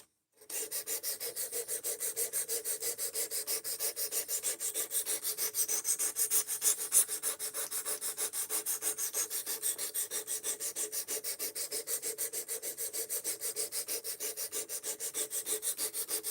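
Knife bevel being sanded by hand with 320 grit abrasive, a close, steady back-and-forth rubbing in a fast, even rhythm that runs continuously with no voices.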